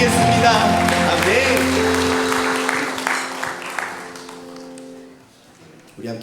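A church congregation at a Sunday afternoon service claps together in loud, dense applause over sustained music, tapering off into scattered claps and fading out near the end.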